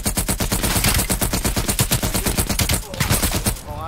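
Sustained automatic fire from an M60 machine gun in the Call of Duty Black Ops Cold War campaign, a loud, rapid stream of close shots with no break for nearly four seconds, a little more ragged near the end.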